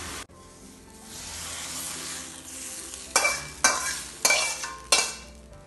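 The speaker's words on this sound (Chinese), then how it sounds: "这个青菜很容易熟的，稍微翻炒一下就可以了。" Greens and shiitake mushrooms sizzle in a pan under a steady hiss, with four sharp scraping stir strokes close up toward the end and no talking.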